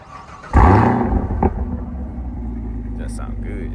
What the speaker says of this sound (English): So I pretty much started the car up already.